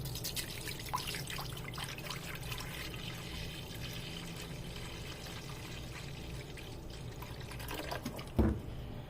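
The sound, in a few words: water poured into pot for boiling chicken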